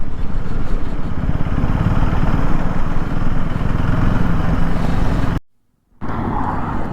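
A KTM motorcycle riding on the highway gives a loud, continuous engine and wind roar that cuts out briefly near the end before resuming.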